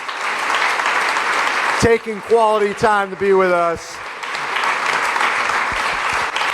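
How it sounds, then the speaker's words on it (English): An audience at a triathlon club meeting applauds for triathlete Jan Frodeno, with loud close clapping that breaks for a short stretch of someone talking and then swells back up and continues. "How about a round of applause for Mr."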